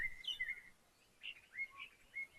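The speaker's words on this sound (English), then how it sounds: "Birds are happy." Birds chirping on a chilly early-March spring morning, a few small high tweets and short trills in quick bursts, faint and somewhat distant, with no talk.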